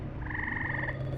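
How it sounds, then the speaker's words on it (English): A frog croaks in a rapid, pulsing trill that holds steady for most of a second and then stops, fairly close and clear over a low, constant background hum from an African setting. "A frog is hardly worth the effort."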